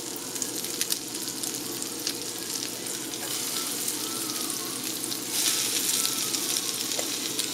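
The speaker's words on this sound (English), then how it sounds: "Got a sizzle action happening" French toast bites sizzle steadily in a large hot frying pan, a dense crackling hiss that swells a little louder near the end, with no talking.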